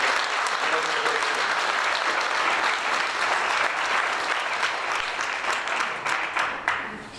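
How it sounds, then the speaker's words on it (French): An audience at a mayor's New Year's address in Saint-Sever applauds, a dense, sustained clapping from a crowded hall that holds steady and then gradually thins out toward the end. "Je crois qu'on peut les applaudir"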